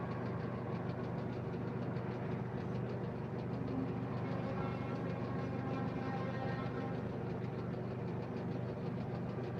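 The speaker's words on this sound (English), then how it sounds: "Here's the fire trucks." Fire trucks roll by nearby with a deep, continuous engine rumble and vibration that stays steady and fairly loud, with no siren and no talking.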